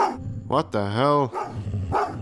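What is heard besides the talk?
dog barking in Goosebumps: The Game video game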